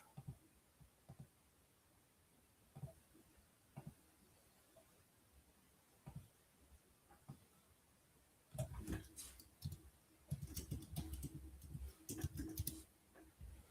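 Sparse, faint clicks at first, then a denser burst of rapid keyboard tapping in the second half, close and without any speech.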